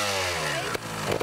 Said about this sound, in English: Start your engine up